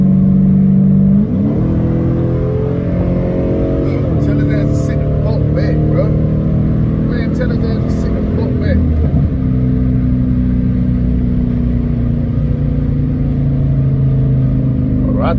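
A catless Dodge Challenger R/T accelerates hard at night, its loud, close exhaust roar rising through gear changes and then holding a steady drone, with faint voices now and then beneath it.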